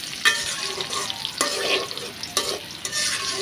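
Fish curry with raw papaya stirred in a hot pan, spoon scrapes and clacks recurring irregularly over a soft sizzle, close and fairly loud, no speech.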